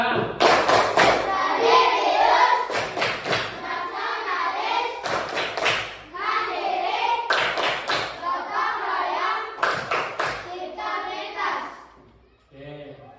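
A classroom group doing the tepuk PPK ice-breaker, bursts of rhythmic hand clapping in patterned sets alternating with a group of voices chanting, repeated several times over about twelve seconds before fading.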